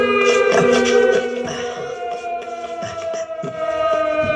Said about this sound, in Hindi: उस सायरन का मतलब सावधान होना है।